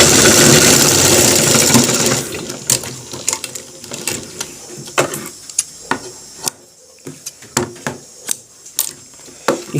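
A sewing machine runs a steady, loud stitch while sewing a shirt collar, then gives way to a series of short separate bursts and clicks as the work is stopped and repositioned.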